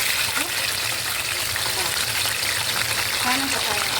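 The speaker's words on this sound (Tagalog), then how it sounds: "magpiprito naman tayo ng ating bangos" Boneless milkfish fries in hot oil without flour coating, giving a steady, dense sizzle that fills the short stretch evenly at close range, with no voices over it.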